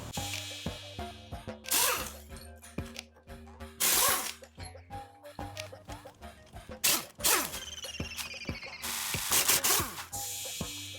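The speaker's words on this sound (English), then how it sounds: "We're gonna get those 2 bolts loose on each side." Wheel bearing bolts are worked loose during an off-road steering install: a close ratchet clicks in bursts, broken by loud wrench strikes and scraping, with metallic clatter between.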